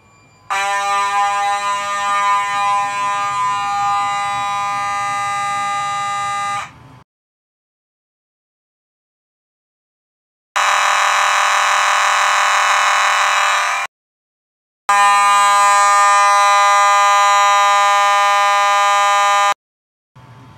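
A loud, harsh fire alarm horn/strobe blares in three long bursts separated by silent gaps, the middle burst sounding brighter and rougher than the others.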